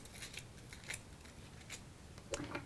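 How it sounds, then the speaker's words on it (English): Paper tabs of a Stars and Stripes SVG craft kit being folded down, heard as a few soft, close crinkles and crisp rustles spaced unevenly in a quiet room. "I can go ahead and fold down all these tabs all the way around"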